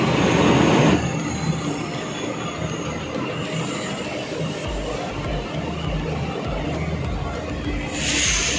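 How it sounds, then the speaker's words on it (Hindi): A Delhi Metro train pulls into the station with a continuous rumble of wheels on rails and high squeals. The sound is loud and near, running steadily throughout. "और अभी आ चुकी है मेट्रो स्टेशन पे हाई जी मेट्रो"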